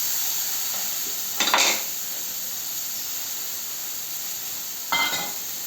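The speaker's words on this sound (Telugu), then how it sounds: "తరిగిన పువ్వుని వేయించుకోవాలి." Chopped banana flower frying in oil gives a steady, even sizzle throughout, with two brief louder bursts of hiss, like stirring or a fresh spatter.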